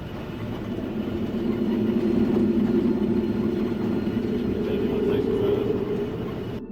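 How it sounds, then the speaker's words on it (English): A train rolls slowly through the Australian countryside of the Barossa Valley, a continuous low rumble that swells gently and then eases over several seconds. "The train is travelling slowly through the Australian countryside, even though it's broad daylight."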